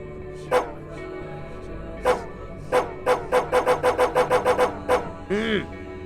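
Dog barking in the game Psychopomp GOLD, a few spaced single barks followed by a quick run of about ten evenly paced barks and a final whimpering yelp, fairly close and clear.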